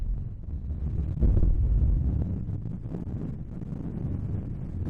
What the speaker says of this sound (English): We've just climbed up the headland, blinking windy up here.